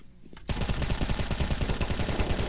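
Rapid automatic gunfire shooting through a wall in a video game bursts in abruptly and keeps going as a dense, loud, evenly spaced stream of shots with no pause.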